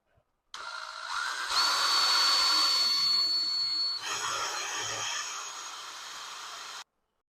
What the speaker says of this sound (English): I'm going to be using this drill bit to drill out the hole